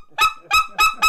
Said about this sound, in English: The squeal by itself would be just hitting the tongue.